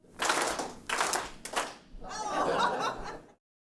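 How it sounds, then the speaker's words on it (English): Audience clapping on cue as a speaker's hands pass, a few bursts of group claps with brief gaps, ending in a longer stretch of clapping mixed with soft chuckles before stopping abruptly. "Whenever my hands pass, I want you to clap."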